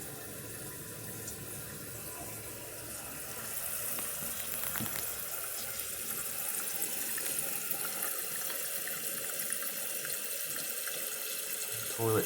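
A household water tap is turned on fully, and the water pours in a loud, steady hiss and rush that fills the whole stretch, with a brief surge near the end.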